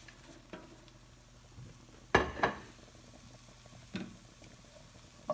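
Chorizo sausage tipped back into a pan of frying vegetables for a frittata: a low background sizzle broken by a brief clatter as it drops in, then a few light stirring knocks.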